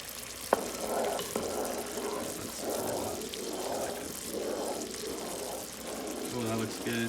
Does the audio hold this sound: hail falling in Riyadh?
no